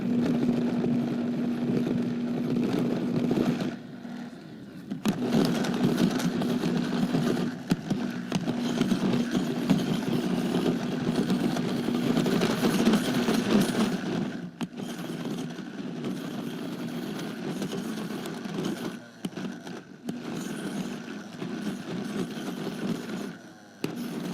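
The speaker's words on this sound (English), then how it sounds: "Looks like it's blending well." A Vitamix Ascent blender whirs steadily while blending a very thick pudding, a loud continuous motor roar with a brief dip near the start and slight shifts in pitch throughout.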